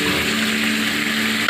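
Egg curry with potol (pointed gourd), tomato and sugar sizzles steadily in the pan while being sautéed, a dense continuous frying hiss with no voices.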